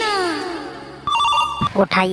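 A telephone rings without being answered; clear repeated electronic ring tones sound close and loud, with speech-like voices and noise around them.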